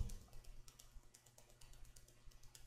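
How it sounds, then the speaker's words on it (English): Keyboard typing, quiet and steady, with soft irregular key clicks while credentials are entered into an online enrollment form; no voices. "type in your credentials, your last name, first name, middle name, and your birthday"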